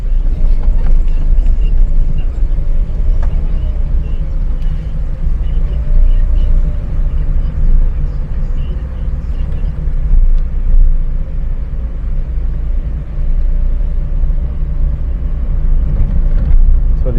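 A car drives around Bogue Village in St James, Jamaica, its steady low engine rumble and road noise continuous and close throughout, with no talking.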